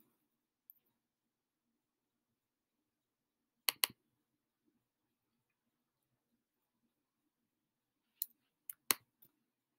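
Sharp computer mouse clicks in a quiet room while editing a 3D model in Fusion 360: a close double click near four seconds, then a cluster of three or four clicks near the end, with near silence between.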